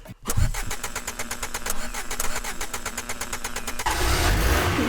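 A car engine cranks with a rapid rhythmic starter whir for several seconds, then catches and settles into a loud, rough idle, heard close with no talking.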